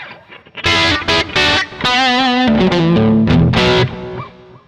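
Distorted electric guitar run through a Zoom MS-50G multistomp with plate reverb, a loud phrase of bent and sustained notes and chords, ending in a smooth reverberant tail that fades out.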